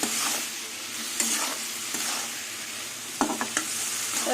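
Spices and chilli powder stir-fried in hot oil for a ridge gourd dish, with a steady sizzle and occasional scraping clicks of a spatula against the pan, close and continuous.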